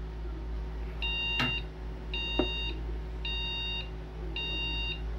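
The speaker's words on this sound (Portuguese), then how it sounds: "Quatro bips de memória, pessoal." A computer motherboard gives a memory-error beep code: four evenly spaced electronic beeps in a row, fairly clear over a steady low hum, with a couple of brief clicks between them.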